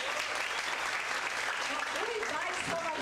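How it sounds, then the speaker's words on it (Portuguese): Sustained applause from an audience at a university accounting-week lecture in Brazil, steady and dense throughout, with faint voices mixed in. "Palmas!"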